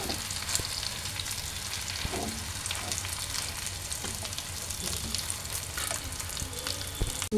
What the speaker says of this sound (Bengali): দিয়ে এটাকে ভালোভাবে আমি একদম ভেজে নেব পাঁচ মিনিটের মতো